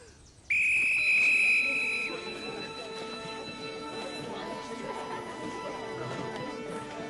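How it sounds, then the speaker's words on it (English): A whistle blown once to start a race, one loud shrill blast lasting about a second and a half near the beginning, then fading into general background noise and faint voices. "When I blow the whistle, you go."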